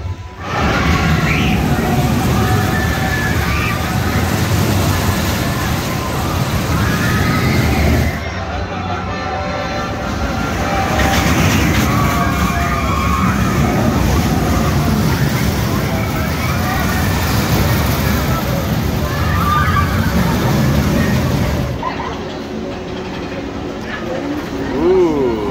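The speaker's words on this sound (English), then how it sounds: "Next roller coaster up is Boomerang Coast to Coaster" A ride on the Boomerang Coast to Coaster roller coaster with its new trains at Six Flags Fiesta Texas: loud, continuous rushing wind and rumbling track noise with shifting roar, abrupt changes in intensity, and voices mixed in.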